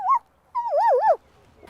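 A person imitates a zebra's call with a short yelp followed by a longer, wavering, warbling whinny-like cry, close and clear against a quiet background.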